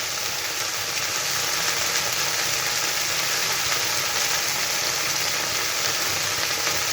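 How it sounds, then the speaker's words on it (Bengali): Elephant apple (chalta) pieces cooking in a pan for pickle give a steady, dense frying hiss that runs unbroken throughout without talk. "সব দিয়ে দিয়েছি চালতাগুলো, ভালোভাবে এখন নেড়ে নিই"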